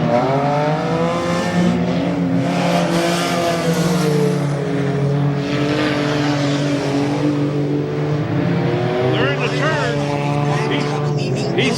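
Race cars at a Goods Raceway enduro race roar and rev through the turns, a continuous loud engine drone with shifting pitch as cars lap, under excited commentary throughout.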